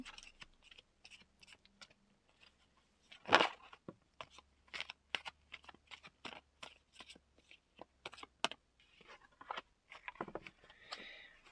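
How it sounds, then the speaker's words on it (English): Tarot cards are shuffled close up in a quiet room, a quick run of soft riffling and tapping card sounds with one louder thump partway through, no voice heard. "While I'm shuffling the cards"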